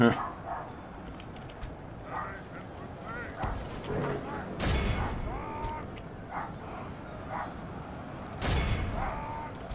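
A dog barks in a Third Age: Total War battle: a few short barks stand out over battle noise, with someone talking over them.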